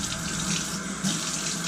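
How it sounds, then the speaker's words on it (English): Water pours onto thick whetstone slurry while a Kamisori straight razor is honed, a steady close splashing stream with no talking. "I'm gonna throw some water on it."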